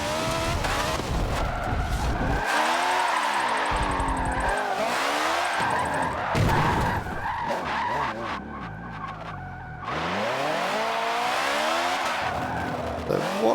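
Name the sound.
2018 Honda Civic drifting, tires skidding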